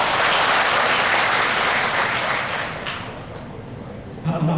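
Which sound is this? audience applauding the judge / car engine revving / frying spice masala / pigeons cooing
audience applauding the judge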